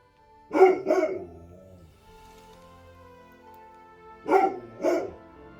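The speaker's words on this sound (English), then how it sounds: "barking at some deer, or at something out the back door" Indoors, a dog barks toward deer outside the back door. There are two pairs of loud, sharp barks a few seconds apart, with a faint steady background hum between them.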